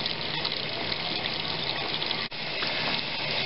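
Several sink taps and a shower running together in a house, fed through a Rheem RTEX 18 tankless electric water heater, giving a steady, loud broadband rush of flowing water with one brief dropout, no talking.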